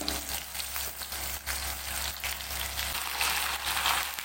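Washed jujubes (kul) frying in hot oil with chillies and two bay leaves for a sweet-sour kul pickle, a steady close sizzle with faint stirring scrapes running throughout.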